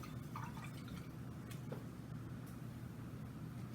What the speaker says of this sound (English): So I'm rinsing this brush off